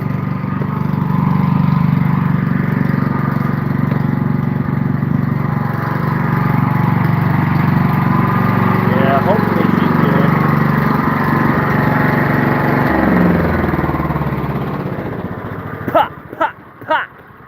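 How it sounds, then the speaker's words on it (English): An engine-driven generator running near a welding setup, a loud steady mid-pitched drone that holds for most of the time before a few sharp knocks near the end. "Generator is on. Let's shut that off too."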